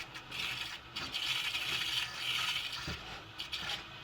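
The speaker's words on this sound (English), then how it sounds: "you're going to screw it in as far as you can, hand tight" Plastic strainer housing being screwed by hand into a water filter, giving a few close scraping, ratcheting rubs of plastic on threads, quiet and with no voices.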